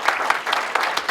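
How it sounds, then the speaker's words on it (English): A short burst of steady clapping from a group, dense and continuous, fairly close. "do a round of applause?"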